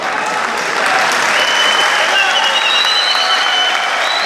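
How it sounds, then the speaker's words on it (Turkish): An indoor sports hall crowd at the final of a freestyle 74 kg wrestling tournament gives loud, sustained applause, dense continuous clapping that fills the space with a faint voice underneath. "salondaki alkışları görüyorsunuz"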